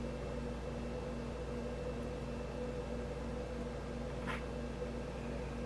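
A microwave oven hums steadily while fudge ingredients melt inside, a constant drone with a faint electrical buzz and a brief higher click partway through, no voices.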